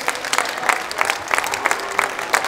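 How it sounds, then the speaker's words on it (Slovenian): Audience applause at a kickboxing tournament: a small crowd claps in a brisk, uneven patter, moderately close and continuous for the whole stretch. "Aplavz pa tudi za nasprotnika Sitar Peter Vid."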